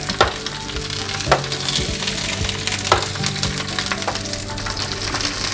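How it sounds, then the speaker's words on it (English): White onion and Roma tomatoes sauté in a hot pan for a chicharrón dish, giving a steady close sizzle with occasional sharp crackles and pops and no talking. "basically what we're gonna do is just saute everything"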